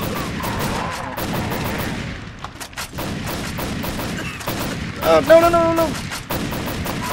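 Rapid bursts of automatic gunfire in the hunting video game Cabela's Dangerous Hunts 2011, dense and loud throughout, with a player's voice speaking briefly.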